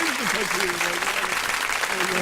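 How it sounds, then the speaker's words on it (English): A radio show audience claps for a guest in a dense, continuous wash of applause that lasts throughout, with voices talking over it. "you gotta give her a hand clap"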